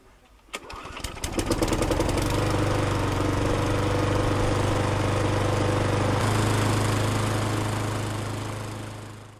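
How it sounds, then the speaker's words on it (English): A Mountfield 414 petrol push mower with an RS100 engine is pulled into life with a few sputters, then runs loud and steady at close range. "It's a Mountfield 414 push mower with an RS100 lump on the top."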